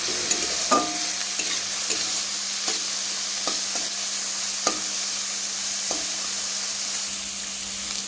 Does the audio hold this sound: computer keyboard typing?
no